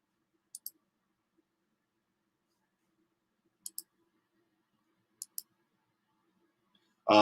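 Computer mouse clicking during a coding workshop: three quiet double clicks spaced a few seconds apart in near silence, followed by the start of a voice at the very end.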